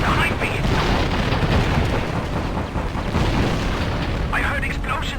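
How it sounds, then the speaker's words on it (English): Deep booming explosions from tank fire in the World War II flight game Secret Weapons Over Normandy rumble continuously, with a brief higher burst near the start and another near the end. "I heard explosions behind me."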